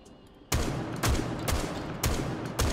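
Shotgun hip fire in the video game Rainbow Six Siege: five sharp, loud blasts spaced roughly half a second apart, each followed by a short rattling tail.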